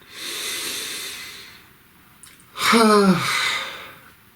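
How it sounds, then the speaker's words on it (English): One deep breath, a slow airy inhale followed by a louder, fuller exhale lasting about a second, close and clear over a quiet background. "Please take a nice deep breath."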